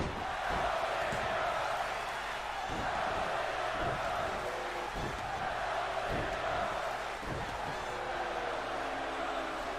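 Arena crowd in the WWE 2K20 wrestling game cheering for Ziggler, a steady roar of fans swelling in waves, with periodic thuds from the ring and a commentator talking over it.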